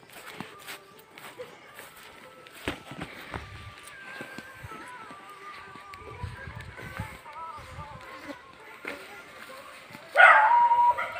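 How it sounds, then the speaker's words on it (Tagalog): Near the end a dog gives a short burst of barks outdoors near a home, over faint footsteps and ambient street noise with scattered knocks. "Uy, may aso."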